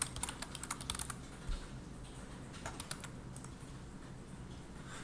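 Computer keyboard keys are tapped to delete text in an office software exercise. A quick run of soft clicks starts the stretch, then scattered keystrokes follow, faint and close, with no talking.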